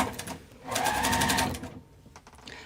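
A sewing machine stitches fabric pieces together in a steady whirring run of about a second, with softer bursts of stitching before and after, close and clear with no talk.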